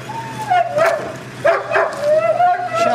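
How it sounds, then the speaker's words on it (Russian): A dog left behind at a house gate barks and yips in short bursts as the family drives off, fairly close, over steady engine hum with people talking around it. "Вот он как за Игнат Тихоновичем-то лает"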